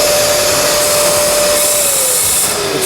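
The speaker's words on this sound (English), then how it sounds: "There's the Walnut Blaster machine, and there's the actual device there that goes into the intake manifold" Walnut Blaster machine blasting media into a car engine's intake manifold to clean carbon on a MINI JCW N14 engine, a loud continuous roaring hiss with a steady whine that drops slightly in pitch near the end.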